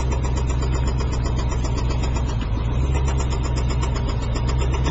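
The engine of a damaged vehicle idles steadily right after firing up, a loud, close, continuous low rumble with an even pulse and no voices.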